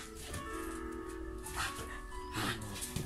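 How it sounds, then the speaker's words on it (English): Dogs playing up close, with excited yips, soft whimpers and short barks over scuffling and movement, growing busier in a couple of bursts. "That's how dogs play."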